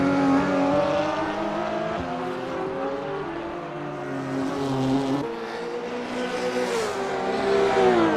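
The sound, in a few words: GT3 race cars at Nürburgring 24h, Watt Racing Supra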